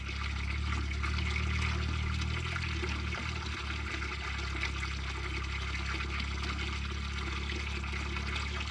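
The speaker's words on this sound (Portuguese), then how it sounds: "Jogou água bom, hein?" Water pours steadily from a hose on a cattle farm, a continuous rushing stream with a low hum underneath, sustained at even loudness throughout.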